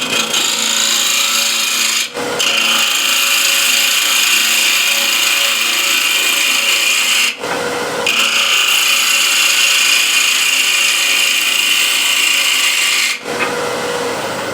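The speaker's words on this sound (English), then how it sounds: "Using spindle gouge." A spindle gouge cutting wood on a lathe makes a loud, continuous rasping hiss that runs in long passes, broken by three brief pauses.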